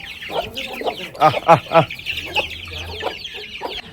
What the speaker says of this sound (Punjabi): ਆ ਮੁਰਗੀ ਨੂੰ ਵੀ ਛੱਡ ਦਿੰਨੇ ਆਪਾਂ